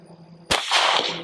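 A single sharp pistol shot from a Sig P365 XL on a timed shooting drill, loud and close with a sudden crack and a short trailing decay, standing alone.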